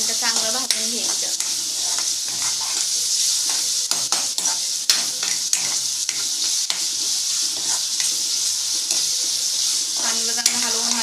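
An onion, tomato and garlic masala fries in a pan with a steady loud sizzle, and a spatula stirs it with frequent sharp scrapes and clicks against the metal throughout.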